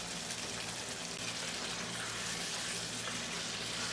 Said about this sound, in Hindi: देखिए गोश्त को भूनते हुए मुझे 5 मिनट हो गए